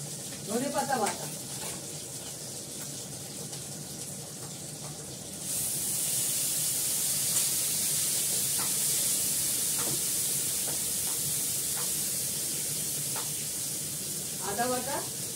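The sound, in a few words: coriander leaf paste frying in pan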